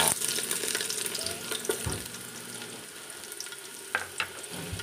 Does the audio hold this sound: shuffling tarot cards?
no